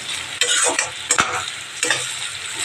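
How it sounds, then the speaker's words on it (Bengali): Onions fry in hot oil in a kadai with cumin and bay leaf, a loud close sizzle punctuated by several sharp scraping stirs, with no one speaking. "পেঁয়াজটা একটু লাল করে ভেজে নেব"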